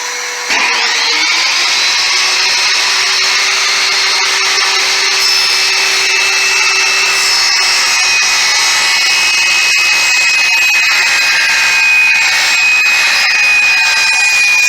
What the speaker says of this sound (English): I'm going to cut the shop vac on and give it a couple of whacks